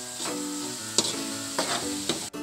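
Ground meat, onion, garlic and mixed vegetables sizzle in hot oil in a pan, with a steady frying hiss broken by a few sharp scrapes and clinks of a spatula stirring, close up and with no talking.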